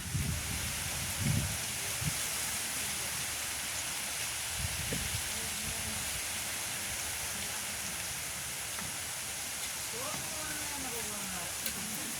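Steady rain falls outdoors in a village setting, a continuous close hiss of drops with scattered heavier patters throughout.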